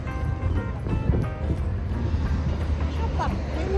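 Wind sweeps across a dam viewpoint at Elephant Valley Hydel Park near Munnar, buffeting the microphone with a continuous low rumble for a few seconds.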